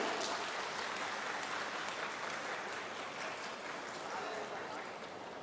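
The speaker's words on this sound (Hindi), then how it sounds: "आइए जोरदार तालियों से स्वागत करें।" Hands clap in steady, fairly distant applause at a ceremony releasing an album about tribal freedom heroes, part of an Azadi Ka Amrit Mahotsav event. The clapping stays even and soft throughout, easing slightly toward the end.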